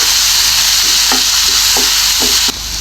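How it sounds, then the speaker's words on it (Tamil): Steady, loud sizzling of two large finely chopped onions frying in hot oil for chicken samosa filling, with a few soft stirring scrapes against the pan; no voices. "இப்போ இது கூட ரெண்டு பெரிய வெங்காயம் பொடியாக நறுக்கிறது இது கூட சேர்த்துக்கோங்க இது நல்லா வந்து ஃப்ரை பண்ணிக்கலாம்"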